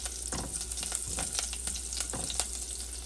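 Green chillies frying in hot oil for sago khichadi, a close continuous sizzle and crackle with small pops and spatters throughout.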